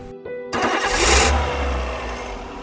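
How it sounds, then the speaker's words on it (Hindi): A motor car engine starts with a brief crank, then rumbles and revs up loud and close before settling into a steady idle, heard alone. "मोटर गाड़ी की गड़गड़ाहट से सुबह की खामोशी में आज फिर खलल पड़ा।"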